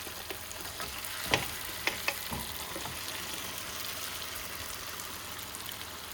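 Steady, low sizzle of chicken frying in a pan with tomatoes and onions for an Indian achari dish, with a few faint clinks of a utensil against the pan and no talking.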